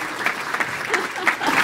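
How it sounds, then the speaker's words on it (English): Audience applause at an event opening a post-concussion and brain injury training series, a moderate, steady clapping with a few sharper individual claps standing out, heard alone without talk. "let's give them a round of applause"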